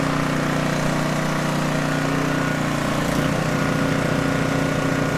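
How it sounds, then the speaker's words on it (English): An Ariens RapidTrak Professional 28-inch snowblower runs with its auger spinning, a loud steady engine drone with a constant rotating hum throughout, no talking. "Auger spinning."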